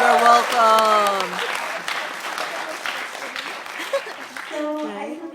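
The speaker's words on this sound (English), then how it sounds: "So give yourselves all a round of applause." A crowd at a speaking event applauds, steady clapping from many hands at moderate distance, with a voice talking over the start and end.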